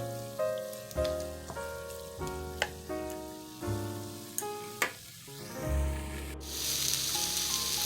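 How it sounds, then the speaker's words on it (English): Shrimp sizzle as they are sauteed in a pan for fried rice, a steady frying hiss under louder background music, with the sizzle brightening in the final seconds. "saute for 3 to 4 minutes until your shrimp is cooked all the way"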